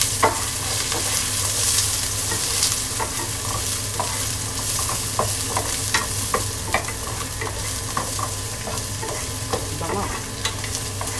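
Garlic fries in a pan with a steady loud sizzle, while a utensil stirs it with frequent light scrapes and taps throughout.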